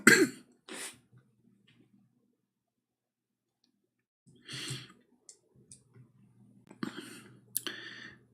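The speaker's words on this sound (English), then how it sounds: "I hope I'm not getting sick because I'm coughing." A person coughs and clears their throat in short bursts with quiet gaps between them, close and fairly loud, with a cluster of coughs near the start and more near the end.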